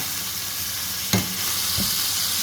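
Pork stir-frying in red curry paste with fresh leaves, a constant close sizzle broken by two quick scraping clanks of a utensil against the pan.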